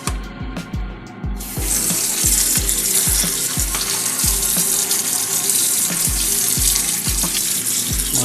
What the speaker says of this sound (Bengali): এবার আমরা এটাকে ভালো করে ধুয়ে নেব জলের মধ্যে।